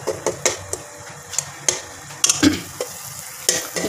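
Vermicelli frying on low heat for a sweet milk dish gives a soft, low sizzle, punctuated by repeated sharp clicks and scrapes of a utensil stirring against the pan at an irregular pace.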